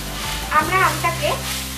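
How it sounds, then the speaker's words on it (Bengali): Grated raw mango fries in oil with five-spice seeds and dried chilli over a medium gas flame, a steady soft sizzle running underneath while someone talks over it. "1 মিনিট মতন একটু ফ্রাই করে নেব।"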